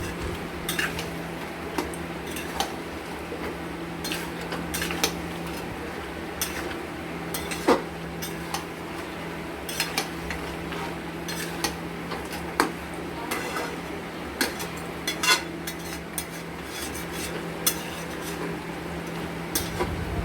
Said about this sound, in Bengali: স্বাদ মতো লবণ দিয়ে এটাকে আমরা ভালো মতো করে লবণটাকে মিক্সড করে দেব।